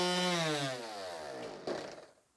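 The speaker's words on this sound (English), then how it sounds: "I got this sander, and it'll work fine." A power sander fitted with 80-grit paper, used on a car hood, gives a loud motor whine that slides steadily down in pitch, then clicks and fades to quiet.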